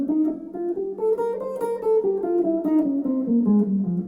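Clean guitar playing a three-note-per-string fragment as a continuous loop at slow tempo, single notes rising and falling in steady succession, near and moderately loud with no talking.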